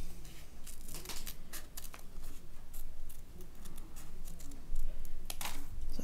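Paper stickers being cut out with scissors, a steady run of crisp snips and rustles, close and fairly loud over a constant noisy background.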